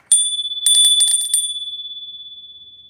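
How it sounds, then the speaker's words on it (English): A small bell rung once, then a quick burst of several rapid rings, its bright metallic tone lingering and slowly decaying afterward, clear and close with no talking. "I'm gonna ring the bell, you guys."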